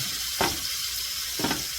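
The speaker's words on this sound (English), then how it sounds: "we are going to take these lamb chops on a sizzling hot pan" Steady hiss of lamb chops sizzling in a hot pan, with two brief louder spits breaking through the constant frying crackle.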